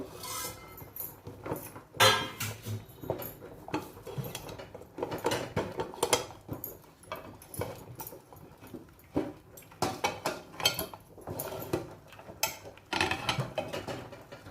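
A pot lid is lifted off Malvani kharvas cooking over a low gas flame, with repeated close metallic clatters and clinks of lid and utensils throughout.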